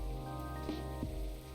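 Rain falls steadily in the video game Coffee Talk, a soft continuous patter under a low background hum with a couple of faint clinks, and no talking.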